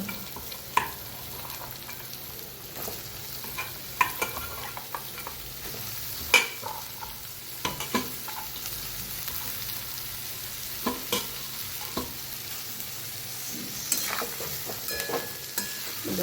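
Chopped vegetables stirred and fried in a pan, with a soft continuous sizzle broken by scattered clinks and scrapes of the spoon, fairly quiet and close, with no talking.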